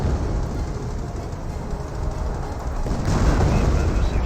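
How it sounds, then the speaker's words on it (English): Hummel self-propelled artillery barrage in a Company of Heroes World War II battle, a dense, continuous low rumble of distant shell impacts that swells louder in the final second. "Calliope does go down there to the artillery barrage of the Hummel."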